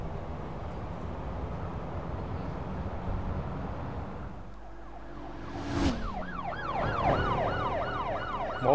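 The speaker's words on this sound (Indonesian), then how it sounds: "Mobil polisi-polisi datang." Police car sirens in a video game wail in rising and falling sweeps, entering after a stretch of rumbling road noise and growing loud and close, several overlapping tones cycling steadily.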